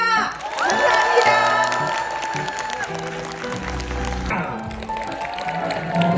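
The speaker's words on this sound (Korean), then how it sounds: "아우 막 함성 소리도 들리고 하는데" An audience of parents cheers, shouts and claps at a kindergarten recital for five-year-olds, loud mixed whoops and applause under music and an amplified emcee voice.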